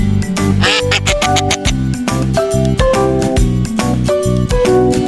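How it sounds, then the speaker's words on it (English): A duck quacks repeatedly in a lively burst of short nasal calls over bouncy music on a children's farm-animal learning track, the quacks loud and close in an uneven rhythm. "It's a duck."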